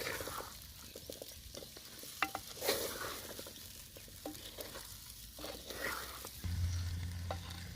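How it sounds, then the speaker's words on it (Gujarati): Whole onions crackle and sizzle in hot oil while being stirred for a stuffed onion sabzi. The frying hiss is steady and close, broken by scraping stirs, and a low rumble joins near the end. "અને આપણે તેલની અંદર આપણે હવે કકડાવા દેવાની છે થોડી"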